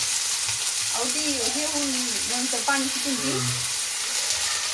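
Spring onion greens dropped into very hot oil for a home-style Marathi bhaji give a steady close sizzle throughout, with a few light tonal squeaks and scrapes over the frying hiss.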